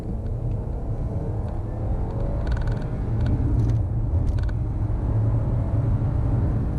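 A 2020 Audi A6 Avant 45 TFSI with a 2-litre engine, about 1.8 tonnes, accelerating hard in a 30 to 70 sprint: a steady low engine and road rumble that builds slightly, heard from inside the cabin, with faint creaks.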